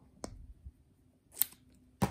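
Scissors snipping through faux leather, with three short separate cuts spread across a quiet background, close and fairly faint.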